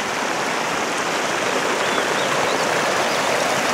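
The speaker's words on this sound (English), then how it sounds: "Creek flows under the snow down here." Crystal Creek at Crystal Lakes, Mount Rainier National Park, flowing beneath snow: a steady, close, broadband rush of running water, continuous and unbroken with no speech.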